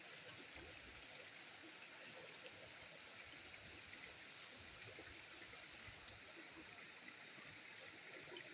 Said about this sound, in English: just a couple steps down and you'll find the river